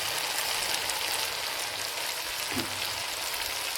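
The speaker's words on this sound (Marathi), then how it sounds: "तेलामध्ये बघू शकते त्याच्यामध्ये कांदा लसूण मसाला टाकते" Onion-garlic masala spice paste frying in hot oil for a brinjal curry, giving a steady, soft hiss and sizzle like light rain with no break.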